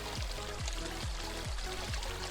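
Magia Blanca, a 40-meter waterfall in a Costa Rican forest, pours in a steady, dense roar of falling water with a constant broadband rush and low rhythmic thumps underneath.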